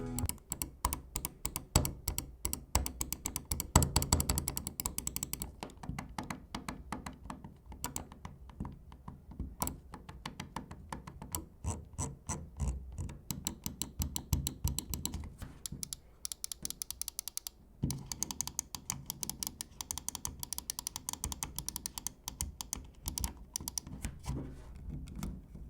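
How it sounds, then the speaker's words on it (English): Pulsar X2 Mini gaming mouse buttons clicked in rapid, dense bursts of sharp, close-up clicks that continue for about 25 seconds with brief pauses, no talking. "let's drop that sound test so you can hear what this mouse sounds like"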